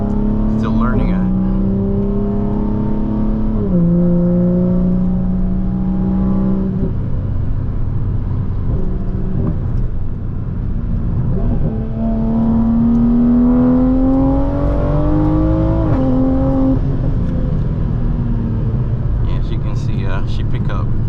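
A modified 2021 Toyota Supra accelerates through several gears from inside the cabin, the engine note climbing in pitch, dropping at each shift and climbing again, loud and close with a steady road roar.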